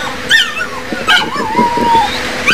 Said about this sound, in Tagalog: Sa landslide site naman sa Barangay Kawag, umaalulong ang asong ito sa gitna ng mga guho.